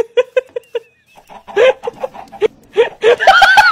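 A game chicken clucks in a rapid series of short, bright clucks, close and loud, ending in a busier burst of overlapping squawks.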